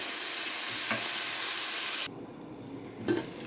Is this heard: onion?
yes